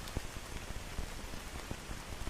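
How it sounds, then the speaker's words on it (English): Rain falling in a rainforest, a dense, close patter of drops striking surfaces with occasional heavier splats, steady and alone without talk. "Well, the rain set in."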